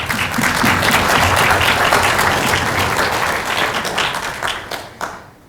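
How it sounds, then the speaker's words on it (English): A conference audience applauds, dense clapping close and loud for several seconds, then thinning out and stopping. "I'd also like to give a round of applause to them for this amazing meeting"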